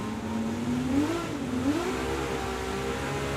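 A loud race car engine in a racing video game revs and drones steadily, pitch rising and falling as it accelerates, close and continuous.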